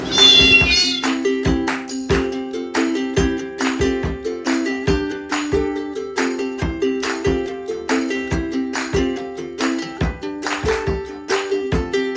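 Several large cats in the back room of a crowded animal shelter meow repeatedly and insistently, loud and close, with overlapping calls in a steady rhythm throughout.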